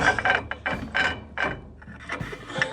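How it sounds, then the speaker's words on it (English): Hand file cleaning up a metal mounting surface held in a shop vise, giving about half a dozen close, rasping back-and-forth strokes in an even rhythm. "We're just cleaning up the mounting surface."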